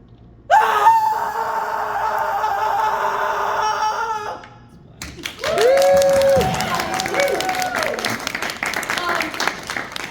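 Several people imitate a blood-curdling Wilhelm scream of a man falling to his death: a loud burst of shrieking voices, a short lull, then wavering, sliding wails mixed with crowd noise.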